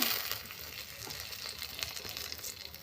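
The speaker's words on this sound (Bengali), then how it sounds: "আমি দুটো শুকনো লঙ্কা ফোড়ন দিয়েছি, দুটো তেজপাতা," Dried red chillies and bay leaves fry in hot oil in a kadai, giving a steady, close sizzle with a soft crackling hiss throughout and no voices.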